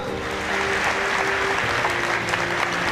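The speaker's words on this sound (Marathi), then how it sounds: "त्या आमचे मित्र सुमित गोटेसाठी एकदा जोरदार टाळ्या वाजवा" A seated crowd at a Washim gathering applauds for Sumit Gote, a thick continuous roar of clapping that holds evenly from start to finish.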